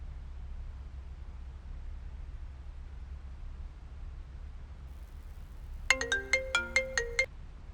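A phone ringtone plays a short melodic pattern of bright repeated notes, fairly near, over a steady low background hum and faint noise in an otherwise quiet room.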